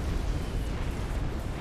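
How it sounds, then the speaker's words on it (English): Artillery shell explosions in the strategy game Supreme Commander: Forged Alliance form a loud, continuous rumbling roar of overlapping blasts with no gaps. "Explosions all over."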